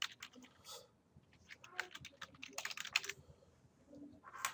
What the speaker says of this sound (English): you can go up here to the quick search bar and you can type in your address